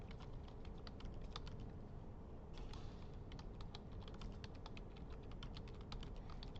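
Students typing on computer keyboards during a university engineering lecture, a steady stream of quiet overlapping key clicks throughout with no talking, fairly faint and diffuse across the room.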